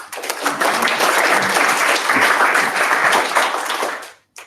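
A meetup audience in Tokyo gives a round of applause, a dense burst of many hands clapping for about four seconds before it stops abruptly.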